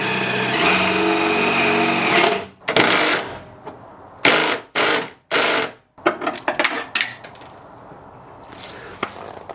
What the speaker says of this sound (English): You want to hit the pump and see what kind of pressure we're getting?